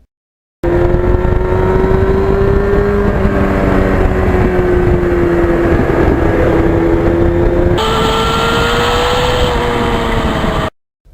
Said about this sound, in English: I just love having a day on the open road with my FZR